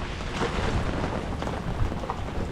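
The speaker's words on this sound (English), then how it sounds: "It's that wall of rain." Heavy rain sweeps over an anchored sailboat on the Intracontinental Waterway in gusty wind, a steady broadband roar of downpour and buffeting air close around the microphone with no voices.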